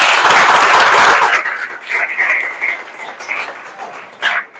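Clapping for a maths class: a loud burst of claps at first that fades after a second or so, followed by a few scattered, quieter claps and one brief final flurry.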